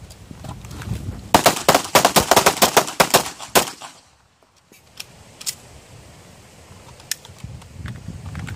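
Rapid pistol shots on a training range, a dense burst of about a dozen sharp cracks in quick succession, then near silence with a few scattered distant pops.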